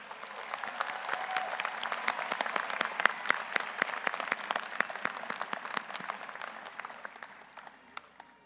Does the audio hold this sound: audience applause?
yes